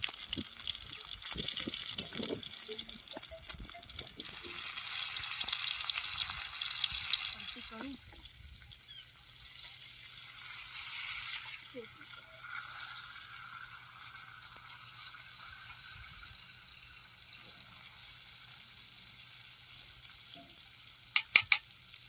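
Large tilapia caught in a river net fries on a griddle outdoors, with a crackling sizzle for the first several seconds that then fades to quieter ambience while someone talks.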